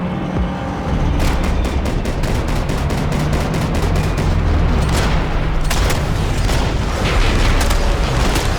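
Rapid gunfire bursts rattle through a Max Payne 3 cutscene, dense automatic shots and booms layered over loud continuous action noise, close and intense throughout.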